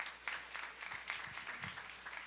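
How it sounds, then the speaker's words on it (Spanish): Worshippers in a church applaud, a moderately faint, uneven patter of clapping hands with a few voices murmuring underneath. "Aplaudan al Señor por eso."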